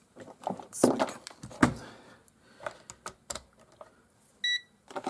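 A multimeter in continuity mode testing a mini-heater switch amid clicks and handling noise, ending in a brief high electronic beep near the end.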